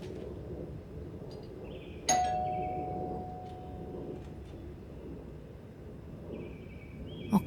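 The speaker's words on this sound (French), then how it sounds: "Encore la sonnette." A single doorbell chime rings out sharply, its clear tone lingering and slowly fading over a low, steady indoor background hum, with no talking.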